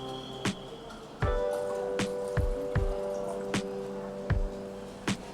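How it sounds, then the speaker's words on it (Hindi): Excess water is tipped out of a seeding tray at home, splashing and squishing in a series of short separate bursts with dripping between them, near and fairly loud over a steady background hum. "तो हम क्या करेंगे कि इसमें से आधा पानी निकाल देंगे।"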